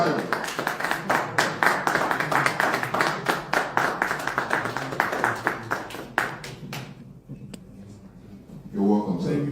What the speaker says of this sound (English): with a thunderous applause, please let's welcome Dr. Stephen Akintayo